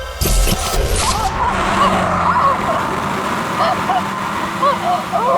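A getaway car speeds off with its tires squealing in repeated sharp screeches over a loud engine roar, while people talk urgently over the noise.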